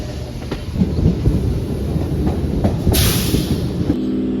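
A Ranaghat–Gede galloping local train slows into Gede station, a heavy, close rumble of wheels and carriages with periodic thuds over the rail joints and a brief hiss near the end.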